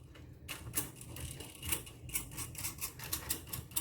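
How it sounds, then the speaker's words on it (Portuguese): A metal nut is spun onto a threaded bolt on a homemade single-phase brushless motor, giving a close, rhythmic series of light metallic scrapes and clicks. "Vou colocar essa porca até quase essa trava que a gente fez aqui"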